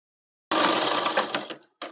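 A sewing machine stitches the seam of a gents kali salwar, running in one steady burst of over a second, then a brief final burst after a short pause.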